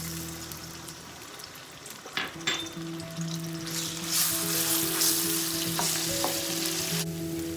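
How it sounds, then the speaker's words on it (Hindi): Garlic ginger paste sautéing in half a cup of preheated oil in a pan, a steady close sizzle with occasional stirring scrapes and pops, no talking. "और इसके अंदर लहसुन अदरक का पेस्ट सौते करेंगे"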